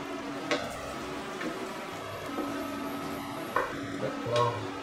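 Goat curry being stirred in a pan, with a soft steady sizzle beneath a few louder scrapes and clinks of the utensil against the pan.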